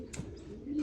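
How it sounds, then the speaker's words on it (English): Belgian pigeons, just arrived in California, give soft low coos amid faint chirps, fairly close and quiet against a light background hum. "Dito na yung mga ibon."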